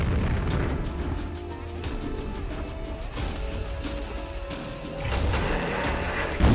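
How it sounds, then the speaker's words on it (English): Grenades burst in the game Quake, a run of heavy booming blasts over dense low rumble, with sharp cracks recurring every second or so and no talk. "Grenades off the wall to finish it."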